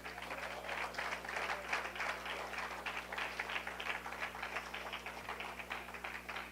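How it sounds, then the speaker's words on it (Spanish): Church congregation applauding in praise, a continuous patter of many hands clapping at moderate loudness for several seconds over a steady low electrical hum, with no voices. "¿Por qué no le damos aplauso al Señor?"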